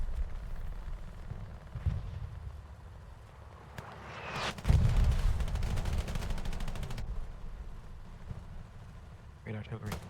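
Heavy artillery and gunfire in a WWII video game match at Sainte-Mère-Église: scattered distant booms, then a loud, dense burst of rapid shots and blasts for several seconds that fades back to quieter rumbling, with voices over it.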